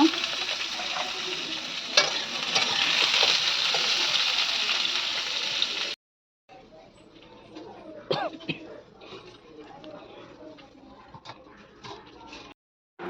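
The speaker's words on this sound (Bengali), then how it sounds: "সবজি আর ওখানে হচ্ছে ভাজা ঝোল হবার জন্য" Vegetables fry in a pan for a curry in a home kitchen, giving a steady hissing sizzle with faint clinks. The sizzle stops abruptly midway, then resumes more quietly with occasional knocks.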